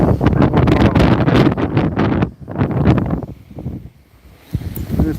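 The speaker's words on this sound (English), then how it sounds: "it is pretty windy today." Steady wind rushes and buffets against the microphone in a garden, loud and gusty, easing briefly before picking back up.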